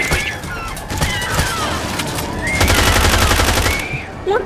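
Sustained gunfire in Left 4 Dead 2 on Realism Expert, loud overlapping automatic bursts and shots with crashes, running throughout and intensifying midway, while players shout over it.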